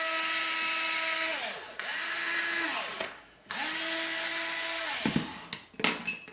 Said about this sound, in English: Keep some pressure on it, and we'll drill this one.